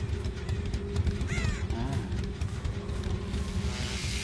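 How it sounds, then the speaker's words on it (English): Crows caw in Dead by Daylight, with a few distinct calls over a low ambient game rumble and a faint background hum. "Hey, they're here. I've seen the crows fly."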